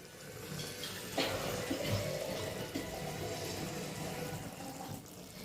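Water pours steadily into a pot of potatoes, a continuous splashing rush that holds at an even level for several seconds with no voices.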